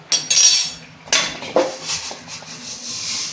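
Roasted raw rice tipped and scraped from a pan into a metal vessel, giving a few bright metallic clinks and rustling grain scrapes, loud at first and then a softer, continuing shuffle.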